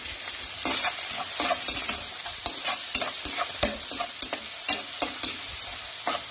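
Onion, ginger and garlic stir-fried in a pan for cauliflower fried rice: a steady sizzle broken by repeated scraping, tossing strokes of the spatula, close and fairly loud.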